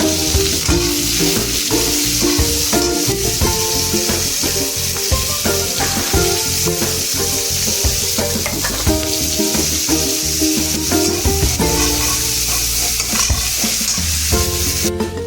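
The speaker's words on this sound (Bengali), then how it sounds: "দেখো পেঁয়াজ আলু ভেজে গেছে" Onions and potatoes fry in a pan with a loud, constant sizzle, broken by frequent scraping and clacking as a utensil stirs them, continuing steadily.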